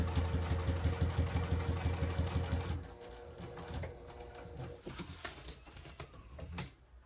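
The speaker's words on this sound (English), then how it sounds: "And then keep sewing." A sewing machine stitching a tote bag, running in a fast, even rhythmic chatter for nearly three seconds, then stopping and starting in shorter, quieter bursts with light handling clicks; no talking.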